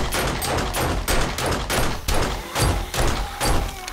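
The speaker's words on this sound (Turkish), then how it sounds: "Boşaltabildiğim kadar mermi boşaltacağım üzerlerine." Dense, loud bursts of rapid gunfire in the zombie survival game 7 Days to Die, firing in repeated volleys about every half second with thudding impacts, continuous and close, with no talk over it.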